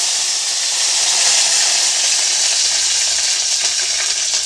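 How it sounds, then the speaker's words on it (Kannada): Half a tablespoon of mustard seeds in well-heated oil for radish sambar, giving a steady, bright, loud sizzling hiss with faint crackle throughout, close up and with no talking. "ಎಣ್ಣೆ ಚೆನ್ನಾಗಿ ಕಾದಿದೆ ನಾನು ಒಂದು ಅರ್ಧ ಟೇಬಲ್ ಸ್ಪೂನಷ್ಟು ಸಾಸಿವೆನ ಹಾಕ್ಕೊಂಡಿದ್ದೀನಿ ಸಾಸಿವೆ ಚಟಪಟ ಅಂತ ಸಿಡಿದ ಮೇಲೆ"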